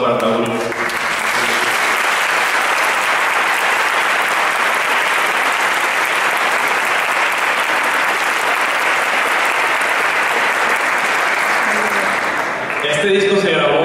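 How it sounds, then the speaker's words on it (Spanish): A concert audience applauds the performers, sustained dense clapping at full volume filling the hall almost without a break, then ending abruptly near the close. "les pido un aplauso para cada uno"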